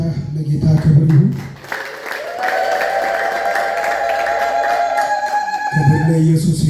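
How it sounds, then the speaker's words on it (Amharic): Ululation at a church worship gathering, a sustained high trilling cry rising over crowd noise and clapping, with loud voices and applause before and after it. "ከዚህ በላይ እልልታ ለጌታ ክብር ይሁን።"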